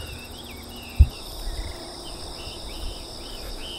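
Insects chirp on a morning walk outdoors, a steady high trill that runs throughout at moderate loudness, with one brief low thump near the start and no talking.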